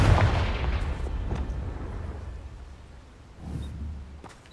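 The Confringo fire spell bursting against pumpkins in Hogwarts Legacy, a heavy booming impact followed by a fading rumble and a second, softer blast near the end.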